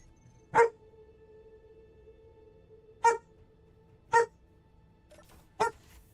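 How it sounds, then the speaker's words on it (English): A dog, a shepherd, gives four short, sharp barks spaced irregularly and fairly close, with a faint low hum steady in between. "Don't growl at me."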